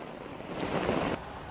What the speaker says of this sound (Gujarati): ગોતા વિસ્તારમાં પણ ધોધમાર વરસાદ વરસ્યો